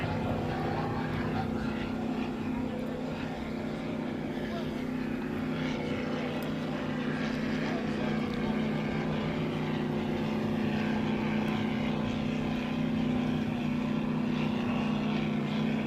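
An orange open-cockpit racing machine at the 2025 E C Griffith Cup gives a loud, continuous engine drone with a steady low hum that holds throughout, and voices are faintly audible underneath.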